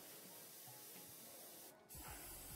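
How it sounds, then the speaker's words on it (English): Airbrush or spray gun spraying paint onto tabletop game terrain, a steady hiss that cuts out briefly near the end and then resumes with a louder, fuller burst right after a clog has been cleared. "Now we're getting some nice good spray."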